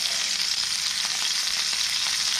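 Venison backstrap sears in a very hot pan, a steady, loud, crackling sizzle that holds without a break.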